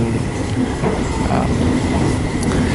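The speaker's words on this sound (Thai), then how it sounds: "รถจะวิ่งไปบนสะพานไม้นะฮะ" Passenger train on the Nam Tok–Thonburi line rolling over a wooden railway trestle along a cliff, a steady close rumble of wheels and car bodies with faint clatter and occasional squeal, no talking.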